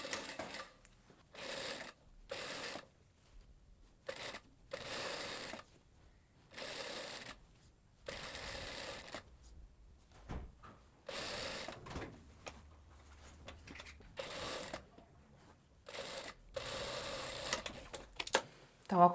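A sewing machine runs a wider seam while making a skirt, in short bursts of stitching that stop and restart with quiet gaps between them.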